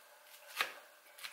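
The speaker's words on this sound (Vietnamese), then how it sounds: "Sau khi cắt cà chua thì mình sẽ cắt thơm." A knife chops through pineapple flesh, one sharp, crisp cut standing out over faint background noise and a softer second cut near the end.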